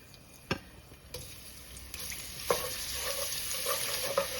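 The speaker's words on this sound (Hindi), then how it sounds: "2 मिनट इसको फ्राई करूंगी" Teaspoon of garlic frying in open oil in a pot for a curry, a soft steady sizzle with occasional clicks and stirring knocks, fairly quiet.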